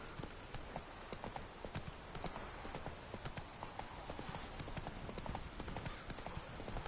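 Horse hooves clip-clop at a steady trot in the Witcher 3 video game, a continuous rhythmic patter over a dense ambient background, with no talking.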